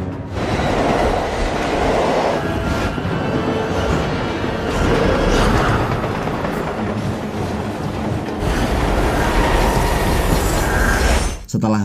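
A train rolls along steadily with rhythmic clickety-clack and rumbling car noise in a thriller action scene, continuous and fairly loud with brief muffled voices.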